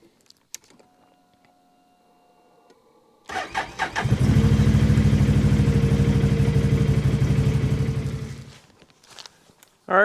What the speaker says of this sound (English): Let's jump on the ATV. Let's head off deep into the forest